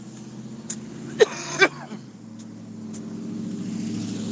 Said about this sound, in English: damn, there's a lot of cars outside.